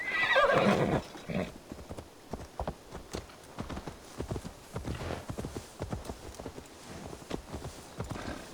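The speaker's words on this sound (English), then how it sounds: "Now to deliver Magni his horse." A horse in Assassin's Creed Valhalla gives a loud whinny at the start, followed by a steady run of soft clip-clopping hooves walking at an even pace.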